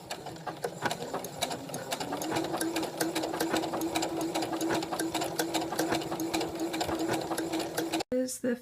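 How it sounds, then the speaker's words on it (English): A sewing machine runs steadily while stitching the hem of a tank top, a fast rhythmic mechanical whirr and tapping that holds for several seconds before a brief stop and restart. "here is the machine in action"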